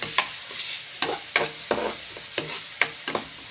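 Garlic, onion and ginger sauté in a pan as tomato is added and crushed, with a steady sizzle broken by about eight sharp scraping and pressing strokes of a spatula, close and unaccompanied by speech.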